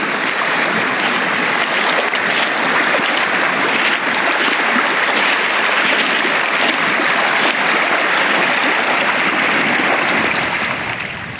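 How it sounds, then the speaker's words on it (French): A glacial meltwater river about six metres wide near the Lofsjökull glacier in Iceland, rushing as a loud, continuous broadband roar close by that fades slightly at the end. "Et là, ça fait une belle rivière là, déjà."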